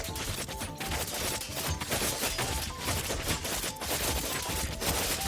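Spiky balls explode in the strategy game Thronefall as a dense, continuous barrage of crackling blasts and crashes, loud and unbroken for several seconds with no talk.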